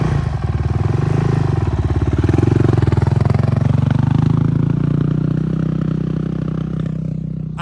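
A 2025 Honda CRF450X dirt bike fitted with an FMF exhaust pipe idles loudly up close, its engine keeping a steady, throaty thrum with rapid firing pulses and faint mechanical clatter throughout.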